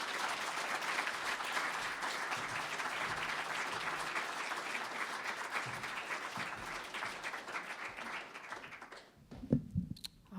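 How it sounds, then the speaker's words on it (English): A seated audience applauds for a speaker named Janelle at an evening talk, dense steady clapping that fades out near the end, leaving a few scattered sounds. "Please give Janelle a round of applause."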